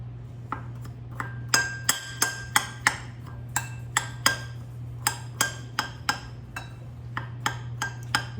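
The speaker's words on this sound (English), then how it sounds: "Let me stir this together." A mixing bowl of cheesecake crumb topping components is stirred with a utensil, giving a steady series of sharp clinks and taps against the bowl at a brisk, slightly uneven rhythm, close and alone.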